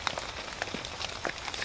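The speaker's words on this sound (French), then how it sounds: "à partir du moment où c'est mis à pleuvoir" Rain falls at night on an arm of the Rhône in winter, a steady soft patter of drops on surfaces, continuous and fairly close, with no voices.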